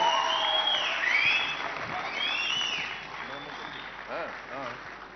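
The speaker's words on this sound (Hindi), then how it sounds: "आप लोग अगर तबीयत से ताली बजाएंगे तो वो गाएं भी" An audience at a live event with an Indian playback singer claps in a broad wash of applause that fades over a few seconds, with voices talking over it.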